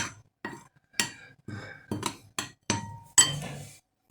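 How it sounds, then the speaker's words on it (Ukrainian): A metal spoon clinks and scrapes against a pan of chicken legs stewing in sour cream in a series of short, uneven strokes, close by and fairly loud, with no talking. "Зараз поки помішаємо."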